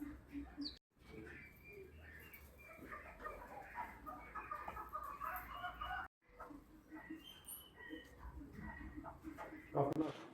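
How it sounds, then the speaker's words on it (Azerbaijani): Partridges call from an aviary on a decorative bird farm, faint repeated clucking calls among other birds, with someone talking over them. "Kəhliklərin də səsi çox maraqlıdır."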